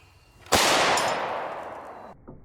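A gun fired with an obstructed barrel gives one sharp, loud blast that trails off into a long, hissing, rumbling decay over more than a second, followed by a faint later thump.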